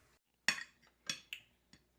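Kebab mixture scraped from a pan into a dish, a few sharp metallic clinks and scrapes of a spoon against cookware, close and quiet, with silence between.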